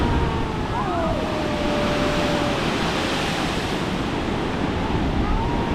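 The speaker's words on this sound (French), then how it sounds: "Cette formation rocheuse où les vagues se fracassent contre les rochers." Ocean waves crash against the granite rocks at The Gap near Albany, a continuous loud roar of surf with wind noise, no voices.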